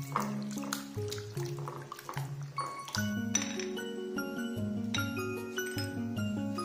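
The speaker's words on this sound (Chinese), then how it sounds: "最后来洗一点红枣和枸杞" Red dates and goji berries are washed in water in a bowl, giving gentle splashing and light clinks close up, with a faint, steady background tone and no talk.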